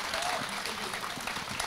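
A crowd at a women's Urdu poetry mushaira gives a short, fairly faint burst of applause, an even patter of clapping lasting just under two seconds.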